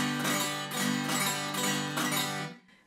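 Strummed guitar chords played with a thick pick and stiff arm ring out in a steady rhythm, bright and full, each strum hitting hard before the last chord fades to silence.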